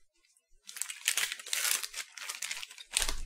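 A fruity taffy-like candy strip gets wadded up in the fingers, producing close, crisp crinkling and crushing bursts in several short waves after a quiet start.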